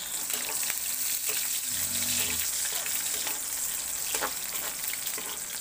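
Onions hit hot oil in a pan and give off a steady, hissing sizzle that holds at an even level throughout, with faint voices under it.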